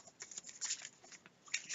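Board game cards for Kingdom Death Monster being shuffled by hand, with quiet, close riffling and papery slaps in uneven bursts over a couple of seconds.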